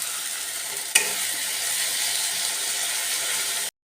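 Chopped tomato drops into a hot frying pan of oil while masala paneer is being made, setting off a sudden sharp hiss that settles into a steady, close sizzle before cutting off.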